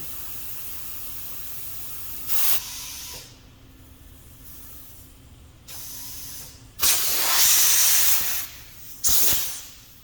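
A compressed air line hisses in several sharp bursts while a tire is inflated on a tire changer in a workshop, loud and close, with quieter gaps between the blasts.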